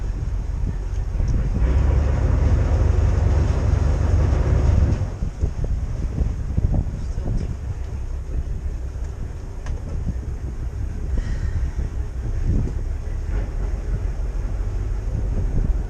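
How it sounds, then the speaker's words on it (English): Strong wind buffets the microphone while boating on the Mississippi River, a loud low rumble that gusts hard at first and then settles into a steady roar with faint mechanical tones underneath. "It's not easy with this wind like this."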